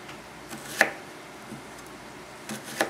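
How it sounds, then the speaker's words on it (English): Knife slicing through an onion on a cutting board, a few sharp separate cuts spaced about a second apart, close and fairly quiet with no talking. "this is the proper way to cut an onion. Start slicing it"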